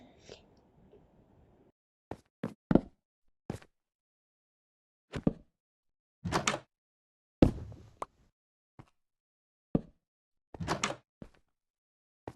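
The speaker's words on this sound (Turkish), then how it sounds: "Kapıyı niye kırıyor ya?" Repeated banging on a locked door indoors, a series of loud separate thumps and bursts of knocks with pauses between them, close and sharp against a quiet room.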